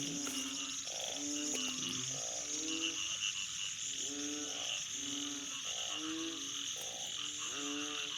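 Asian painted frogs croak in a rhythmic chorus of repeated throaty calls after heavy rain over a flooded water spinach plot, with a steady high insect drone behind them and no voices.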